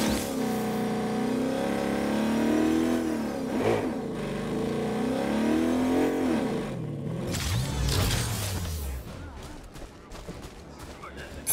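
Vehicle engine in the video game Agents of Mayhem, a steady loud drone with rising and falling revs throughout, under game voices and music.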